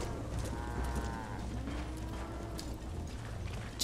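A cow moos in a drawn-out low call in Red Dead Redemption, with faint clopping and mechanical noises in the background.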